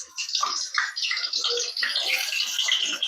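Pieces of pointed gourd crackle and hiss in hot oil with a bright, dense sizzle that holds at a steady, fairly loud level throughout, up close and with no talking.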